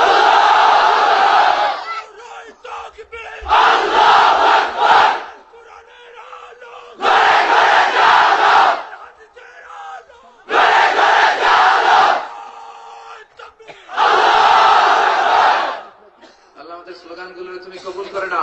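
A large crowd at a Bangla waz gathering chants religious slogans in unison, in five loud surging bursts separated by short pauses in which a single voice leads.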